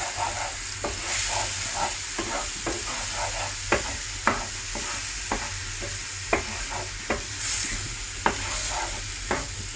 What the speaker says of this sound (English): We fry until onion, garlic, ginger paste become brown.